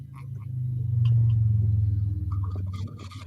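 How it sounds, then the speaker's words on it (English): A low, deep rumble of distant thunder swells over about a second, holds, then slowly fades, with a few faint ticks and rustles at the end and no voices. "Thunder."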